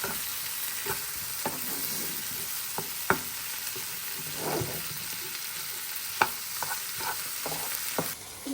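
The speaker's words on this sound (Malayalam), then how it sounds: "നമ്മൾ നന്നായിട്ട് ഇതിനെ വഴറ്റിങ്ങനെ എടുക്കും." Chillies and tomatoes are sautéed in a pan with a continuous close sizzle, punctuated by sharp scrapes and taps from a stirring spoon.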